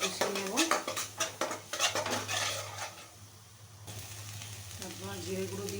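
Ghugni spices with coriander powder sizzle in a pan with brisk clattering stirs, then the frying settles into a quieter hiss, with light background music.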